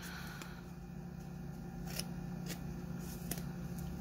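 Scissors cut fabric for a corner square in quilting, a few quiet snips and crisp blade clicks spaced irregularly, close by and with no voices.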